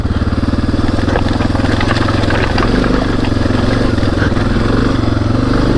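Lowered Honda XR650L single-cylinder motorcycle thumping steadily on a rocky off-road trail, a loud, close engine drone with rattling clatter over the rough ground.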